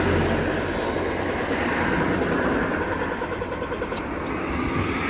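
A car engine cranks on the starter during a check for a shutdown-while-driving fault, a steady loud rumbling churn lasting about five seconds with no speech.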